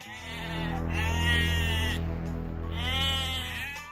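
A sheep bleats loudly and close by, two long wavering calls with a short gap between them, alone without other sounds.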